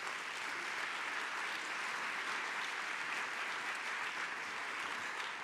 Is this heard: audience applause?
yes